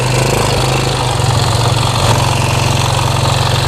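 Engine of a new motorcycle idling up close, a loud, steady, low throbbing rumble with an even pulse throughout and no voices.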